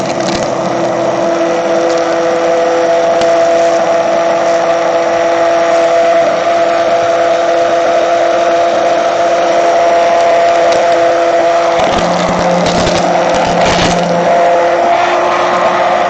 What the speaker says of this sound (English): just spins up the motor